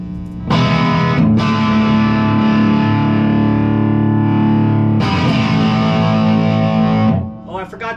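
An electric guitar with high-output pickups plays through a cranked Marshall 100W hand-wired plexi reissue amp, two loud distorted sustained chords ringing out, each for about two seconds.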